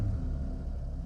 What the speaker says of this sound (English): Then we shall start the engine.